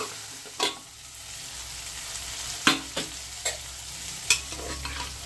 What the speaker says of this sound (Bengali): এটাকে আমি 1 থেকে 2 মিনিট একটু এইটাকে একটু হালকা করে কষিয়ে নেব